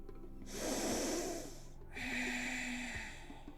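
Two deep nasal in-breaths are drawn during a relaxing evening yoga session, each a close, airy rush lasting about a second and a half, separated by a short pause with no talk.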